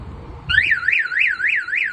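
A 2013 Subaru WRX STI's car alarm panic siren starts abruptly and wails in a steady rising-and-falling pattern, loud and close, with no talking over it.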